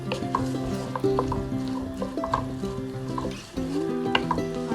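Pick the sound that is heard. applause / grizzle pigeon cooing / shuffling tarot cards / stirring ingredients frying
stirring ingredients frying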